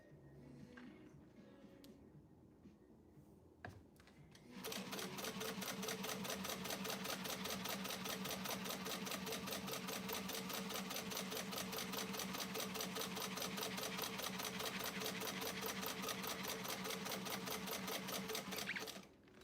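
A serger sewing machine stitches elastic with a rapid, continuous mechanical chatter. It starts after a few seconds of quiet handling noises and runs steadily for about fifteen seconds before stopping.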